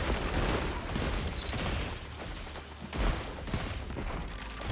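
Sustained loud gunfire from a Destiny 2 firefight, dense overlapping shots and bursts running the whole time with a brief lull near the middle, consistent with pulse rifle fire amid other weapons.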